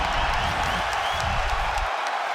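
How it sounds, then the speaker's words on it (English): A UFC arena crowd roars during a wild fight, a loud, dense wash of cheering and noise sustained for about two seconds with some low rumble beneath. "Listen to this crowd."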